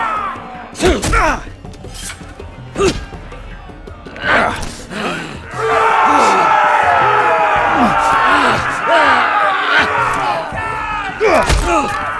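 Arena crowd in the Telltale Game of Thrones video game roaring and shouting in a sustained, dense swell of many voices. It builds midway and stays loud, with a few thuds and gasps earlier on.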